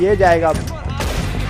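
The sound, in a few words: gunshot headshot in video game Red Dead Redemption 2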